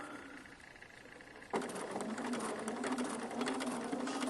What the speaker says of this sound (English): I'm just encouraging it in the direction it needs to be in order to sew this seam.